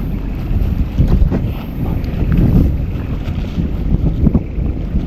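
Rough sea chop and gusting wind buffet a small fishing boat out on the water, a steady loud rumble with swells rising and falling, continuous and close, with no voices.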